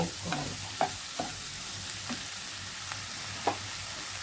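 Chukka kura greens frying in a pan on a low flame, a soft steady sizzle broken by several light clinks and scrapes of stirring.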